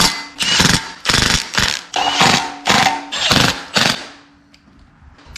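A weak impact wrench works bolts on a 6.0 LQ9 LS engine rebuild, giving about seven short, loud, rattling bursts in a steady rhythm before fading into quieter handling noise.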